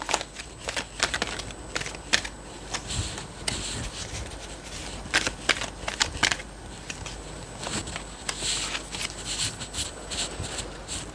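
Tarot cards being shuffled and drawn, a close, dry run of quick riffling and flicking bursts with soft slaps of cards, repeated in irregular clusters with no talking.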